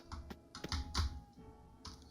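Computer keyboard keys tap in irregular clusters, arrow and WASD keys pressed close to the microphone while controlling characters in a game, with soft background hum and no talking.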